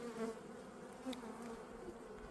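Honey bees at an opened hive during an inspection produce a steady, close buzzing hum, faint overall, with individual bees droning past.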